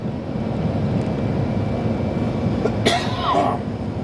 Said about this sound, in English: this is a deep cough here